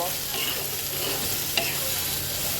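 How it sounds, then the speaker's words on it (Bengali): Bottle gourd peel and seeds frying with salt and turmeric, a steady close sizzle with soft stirring scrapes throughout and one brief sharper clink near the middle, no voices. "এবার আমি এটাকে সুন্দর করে ভেজে নেব"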